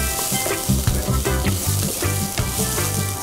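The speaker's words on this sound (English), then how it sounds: "So while that is sauteing" Onions sauteing in a pan for corn samosa filling give a steady, loud sizzle and frying crackle throughout, with no talking.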